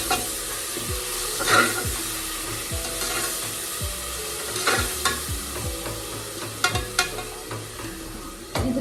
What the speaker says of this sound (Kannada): ಇವಾಗ ಇದನ್ನ ಒಂದು ಎರಡು ನಿಮಿಷ ಫ್ರೈ ಮಾಡ್ತಾ ಇರುತ್ತೆ